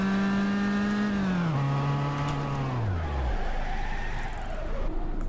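A car engine in BeamNG.drive drones loudly, its pitch stepping down through gear-like shifts and then dropping away into rumbling road noise.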